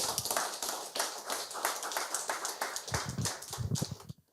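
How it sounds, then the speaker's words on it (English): Debate audience applauding, with many hands clapping in a dense, steady patter that swells and then ends abruptly. "Another round of applause for our elder there."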